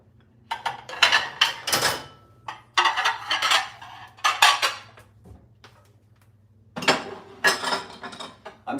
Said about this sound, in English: I'm starting with putting the dishes away though,